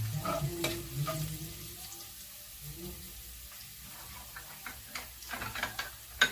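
Chopped garlic frying in a pan for a pork giniling dish, a soft steady sizzle with light stirring and scraping clicks, close and moderately quiet, no talking.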